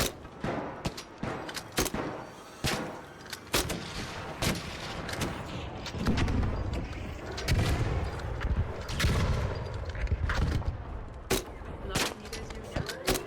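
Gunfire and explosions in the ARC Raiders video game: rapid, loud sharp shots in bursts with heavy booming blasts in the middle, chaotic and close.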